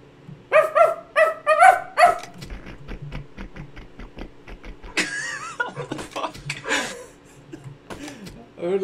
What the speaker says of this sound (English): Yeah, that's my dog.